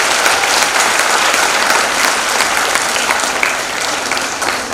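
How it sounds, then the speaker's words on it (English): A large crowd at a university technical festival breaks into loud, dense, sustained applause, steady throughout with no speech on top. "Let's give a big round of applause to your university."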